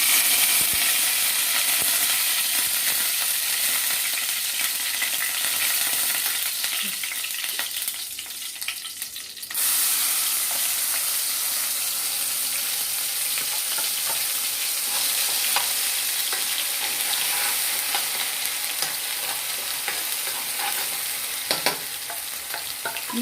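Curry leaves frying in oil and stirred, ahead of adding a spice paste for a spinach fry: a loud, bright, sustained sizzle with crackling and stirring scrapes, briefly dipping then resuming strongly, with no speech.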